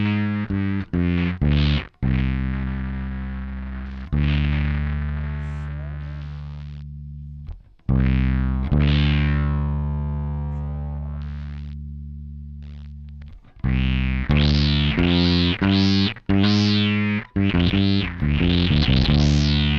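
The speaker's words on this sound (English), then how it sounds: "So a lot more of a fuzzy-like sound." Bass run through a Boss SYB-3 bass synthesizer with a fuzzy, downward-sweeping wave shape effect: a series of loud distorted synth notes, some short and choppy, others sustained for several seconds and slowly fading.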